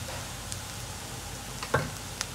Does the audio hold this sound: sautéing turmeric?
yes